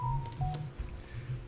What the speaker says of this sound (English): what was that? Your phone.